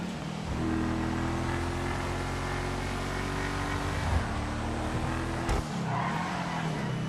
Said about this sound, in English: Not the fastest car by any means,